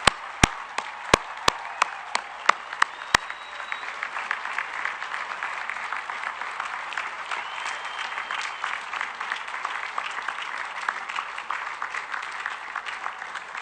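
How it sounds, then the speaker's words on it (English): An audience at a U.S. Merchant Marine Academy commencement ceremony applauds a 92-year-old guest with steady, even clapping that is moderately distant, with a few sharp louder claps near the start. "A round of applause for Jack McCaffrey."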